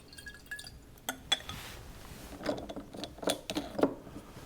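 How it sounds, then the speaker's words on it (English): Water trickles and drips into a bottle in short splashy bursts, with glassy clinks, close and fairly quiet, during cleaning of a pressure myograph system. "remove the cap from the bottle, and add 100 milliliters of water"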